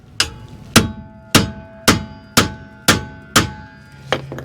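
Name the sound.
sledgehammer hitting an impact tool to loosen brake screw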